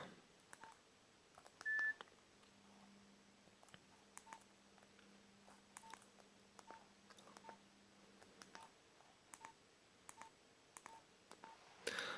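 Keypad tones of a Nokia 1209 mobile phone dialing a short code, a sparse run of brief, faint electronic beeps spaced across the stretch with a low steady hum running underneath.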